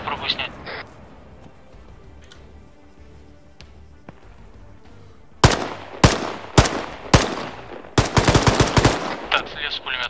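Machine-gun fire in the military shooter Arma 3: after a quieter stretch with distant scattered shots, loud close bursts erupt in repeated rattling volleys.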